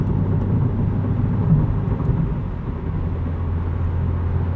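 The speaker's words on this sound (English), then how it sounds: "Hear the turbo working away." A 2020 Subaru WRX cruises at highway speed, its turbocharged engine giving a steady low droning hum under road and wind rumble, continuous and unchanging throughout.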